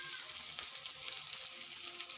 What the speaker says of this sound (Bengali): এরপর কড়াইয়ে পেঁয়াজ কুচি দিয়ে দিলাম